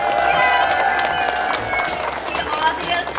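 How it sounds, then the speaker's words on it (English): An audience claps and cheers for a dancing galah cockatoo, lively applause mixed with crowd noise while someone speaks over it. "give a round of applause for Vinny"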